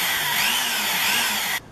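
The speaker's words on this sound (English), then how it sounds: "I'm drilling a hole slightly further in on these plates" A power drill whines steadily at high pitch as it bores a hole into a metal mounting plate, then cuts off abruptly.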